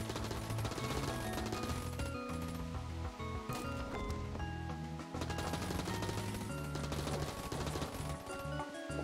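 An AK rifle in Enter the Gungeon fires steady rapid bursts to chop down trees, dense crackling shots layered over a continuous game music bed, no speech.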